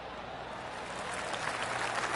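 Steady golf crowd applause in the video game PGA Tour 2K23, a dense patter of clapping that holds level and swells slightly near the end, with no voices on top.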